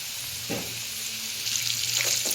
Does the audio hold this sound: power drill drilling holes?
no